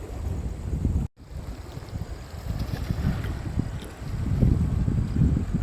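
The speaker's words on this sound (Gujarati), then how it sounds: "બહુ ખતરનાક છે, પવન જોરદાર આવે" Strong wind buffets the microphone at night on the Rajula bypass road beside a dam, a constant heavy low roar with a brief dropout near the start and gusts that swell again later.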